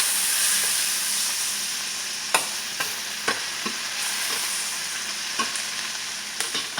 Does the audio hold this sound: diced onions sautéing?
yes